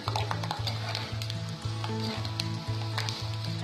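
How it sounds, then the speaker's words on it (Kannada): Peanuts fry in hot oil in a pan, giving a continuous crackling sizzle with occasional stirring scrapes, heard over a repeating tonal music bed. "ಎಣ್ಣೆ ಕಾದಿದೆ, ಈಗ ನೆಲಗಡಲೆ ಹಾಕ್ತಾ ಇದ್ದೀನಿ. ನೆಲಗಡಲೆ ಕ್ರಿಸ್ಪಿ ಆಗೋವರೆಗೂ ಫ್ರೈ ಮಾಡಬೇಕು."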